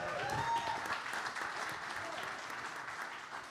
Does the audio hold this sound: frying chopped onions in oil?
no